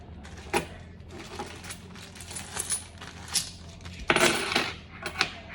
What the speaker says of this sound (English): 2 50-cent coins